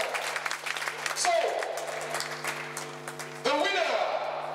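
Crowd at an HFC 5 MMA event applauds a fighter, a steady clapping roar under a booming arena announcer's voice, with a sustained musical drone behind.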